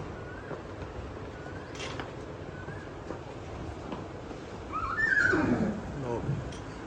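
A mare whinnies loudly near the end, rising and falling, over steady outdoor background noise and some talking at an animal sale.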